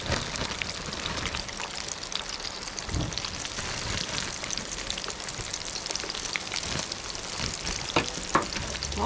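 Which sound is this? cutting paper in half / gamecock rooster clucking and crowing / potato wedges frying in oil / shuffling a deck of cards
potato wedges frying in oil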